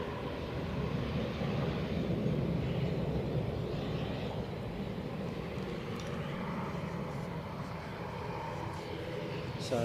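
A Brussels Airlines airliner in spotted livery at Edinburgh Airport on a windy day gives a steady, fairly faint engine roar that holds evenly throughout, with wind noise mixed in.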